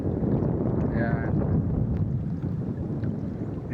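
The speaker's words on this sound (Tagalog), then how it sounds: "Medyo mahangin ngayon guys." Strong wind buffets the microphone in a steady low roar, with faint water and a brief high chirp in the background.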